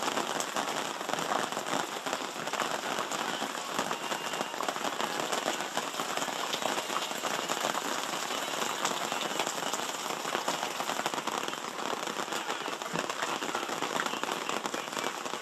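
Steady rain falls on a remote mining camp, a dense continuous patter and hiss with scattered sharper drop impacts, even in level throughout and without any voices.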